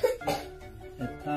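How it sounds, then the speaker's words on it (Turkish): A single short cough close by, followed by a faint second throaty sound, without other talk. "Bir kez daha öksürür müsün?"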